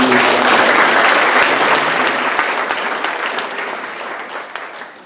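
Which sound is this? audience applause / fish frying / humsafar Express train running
audience applause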